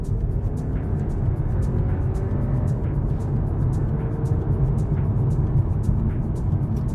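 Inside a 2023 VW T-Roc with a DSG dual-clutch gearbox in sport mode on a highway on-ramp, a steady, loud low engine and road drone fills the cabin, with faint light ticking above it.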